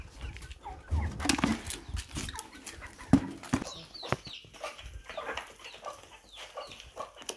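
Chickens clucking and pecking while being fed maize, with soft scattered clucks, short rustles and a few sharper bird calls at a faint, close level in a quiet outdoor setting.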